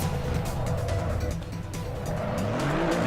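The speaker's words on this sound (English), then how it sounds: "here it is, the burnouts from Ty Morgo for his win in the round 1" Race car in Assetto Corsa Competizione doing celebratory burnouts at Monza after a GT4 Cup round win, a steady loud engine roar with tire squeal and skidding running throughout, no talk.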